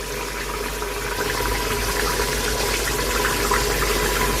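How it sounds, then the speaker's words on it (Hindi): Water pours steadily from a jug into a pot of nihari being cooked, a continuous rushing splash that stays even and fairly close for the whole stretch, with no talking. "अब मैं इसके अंदर ऐड कर रही हूँ 3 जग पानी"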